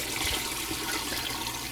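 Chicken stock poured into a pot of chicken, bacon and corn chowder, a steady close rushing trickle of liquid that runs continuously.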